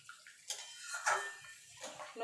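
Hot water poured into a pan of potato curry with lentil dumplings, a soft close splashing pour that comes in short uneven gushes and stays fairly quiet.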